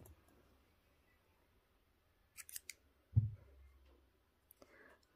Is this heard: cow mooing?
no